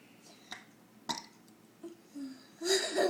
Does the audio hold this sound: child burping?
yes